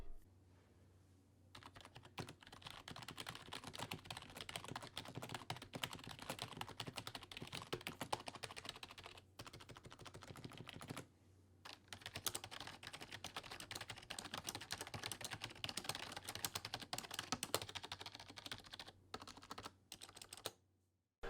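Rapid typing on a Razer Cynosa Chroma and a Corsair K55 keyboard, dense clattering keystrokes heard close up in two long bursts separated by short pauses, with no talking.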